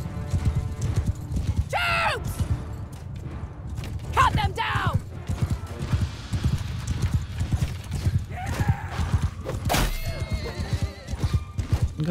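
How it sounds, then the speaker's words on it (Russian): Horse hooves clip-clop rapidly and continuously in the Mount & Blade II: Bannerlord video game, with several whinnies and neighs rising above the galloping and occasional creaks and thunks of battle. "еще одна лошадь там бегает"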